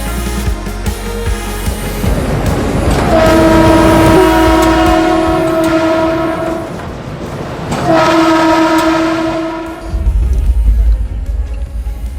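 A long-distance passenger train in Uttar Pradesh, India rumbles along with a loud two-tone horn sounding twice, long blasts over the steady roll and clatter of the cars.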